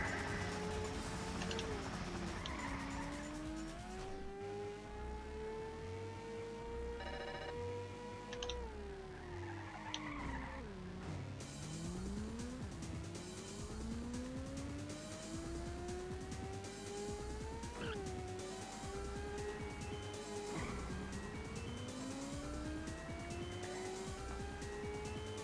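A race car in low gear climbing a hill in the 1995 PlayStation game Ridge Racer, its engine whining steadily, pitch sliding down and rising again through gear changes, with occasional tire squeal, continuous and close.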